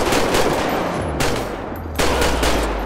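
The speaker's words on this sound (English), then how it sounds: "Shots fired." Loud bursts of rapid automatic gunfire rattle out in GTA 5 police patrol gameplay, two dense volleys separated by a brief lull, close and dominant with no talking.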